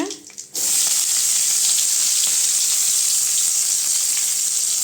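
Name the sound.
cinnamon, cloves and onion frying in hot oil in a kadai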